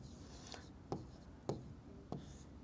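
Pen writing out the given data of a class 9 triangles maths problem, soft scratchy strokes broken by a few sharper taps, quiet and close.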